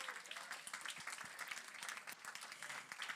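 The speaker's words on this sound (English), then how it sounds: "Can I have one more big round of applause for all of you?" A banquet audience applauds steadily, a dense wash of many hands clapping at moderate distance with no break across the whole stretch.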